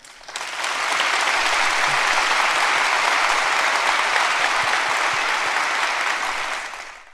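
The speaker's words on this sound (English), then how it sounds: "The fact that the audience even applauded for her is really mind-boggling for me" An audience breaks into sustained applause, dense and even clapping that rises quickly, holds steady for several seconds, then tapers off.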